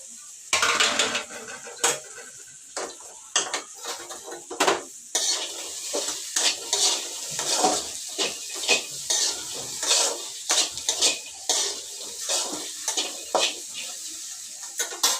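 Cut okra is stir-fried in a pan, with a steady sizzle under frequent close scraping and stirring strokes from a utensil, in irregular rhythmic bursts.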